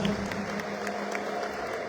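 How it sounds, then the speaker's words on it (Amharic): A church congregation clapping in sustained, dense applause, loud and close throughout, with no distinct ululation standing out over the clapping. "ለጌታ ክብር እልልታ ጭብጨባ ይሆንላት።"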